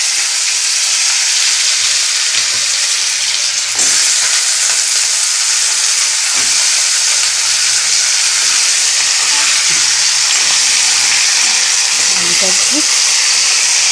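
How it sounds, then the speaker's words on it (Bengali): Bengali fig curry cooking in a pan, with a loud, continuous sizzle and crackle of frying that stays steady throughout, close to the microphone, with a few faint scrapes of stirring. "ভেজে নিই লাল লাল করে ভেজে নিই খানিকক্ষণ ধরে"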